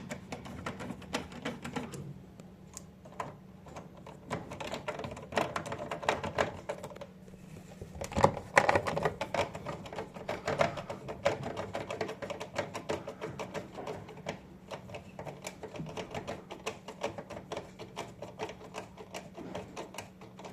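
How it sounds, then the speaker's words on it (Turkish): A torque wrench ratchets while tightening a connection during wiring of a room thermostat to a Demirdöküm Nitromix combi boiler. Dense, quick mechanical clicks run steadily for about twenty seconds, with a louder clack near the middle, all close up and without speech. "Yine tork anahtarıyla"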